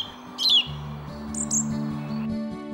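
Birds in Lednice park give a few bright chirps and quick twittering calls, clear and fairly close, over a steady low background drone.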